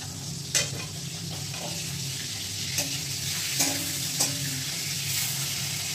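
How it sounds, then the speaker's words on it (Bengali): Hilsa fish frying lightly in a pan of oil, giving a steady soft sizzle with a few sharp utensil clicks and scrapes on top, close by and with no voices. "মাছটা আমি একদম হালকা সতে করে নেবো।"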